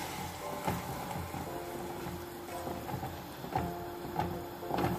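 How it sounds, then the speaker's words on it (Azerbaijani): Flour stirred with oil in a pan for halva makes a soft scraping and low sizzle, with repeated louder scrapes of the utensil at irregular intervals, heard close with no talking. "Qarışdırıram yağla onu."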